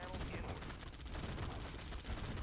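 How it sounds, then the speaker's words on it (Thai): Gunfire from the Red Alert 2 strategy game, a dense continuous barrage of shots and explosions filling the whole stretch at steady loudness, with battle noise layered over it. "ยิงไป ยิงเข้าไป ทำไมไม่แตกสักทีวะ"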